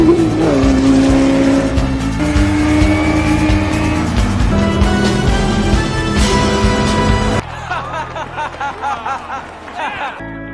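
Race cars battle in the Daytona race from the Ford v Ferrari film, engines roaring and shifting loudly through several pitches with tire squeal, then dropping to a quieter, choppier passage near the end.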